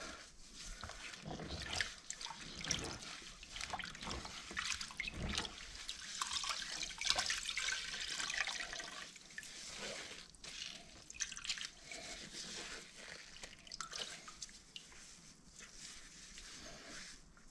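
An air filter being washed in soapy water, soft close sloshing and dripping with scattered small splashes that continue quietly for the whole stretch.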